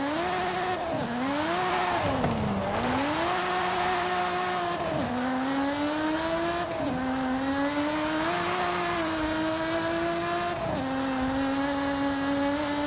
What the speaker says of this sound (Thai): เครื่อง V6 ก็เสียงหวานได้เห็นเปล่าดูดิ